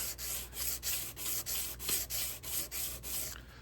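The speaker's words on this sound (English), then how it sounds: "with a sheet of sandpaper, I like to clean up the edges, file them flat" A sheet of sandpaper rubs back and forth along the edges of a waterfall clip piece laid on a protected tabletop, giving about ten steady, rhythmic rasping strokes, close and even, with no voices.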